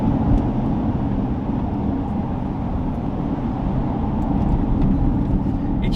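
A Lotus Eletre electric SUV accelerating hard gives a steady, dense low-frequency rumble of road and wind noise heard from inside the cabin, constant for several seconds.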